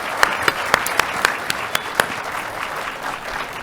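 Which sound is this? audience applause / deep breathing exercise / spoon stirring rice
audience applause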